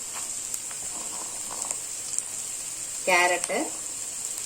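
Onions, carrot, green chilli and beans sautéing in a pan for egg Maggi noodles give a steady close sizzle throughout, with a brief louder burst of stirring near the end while someone talks over it.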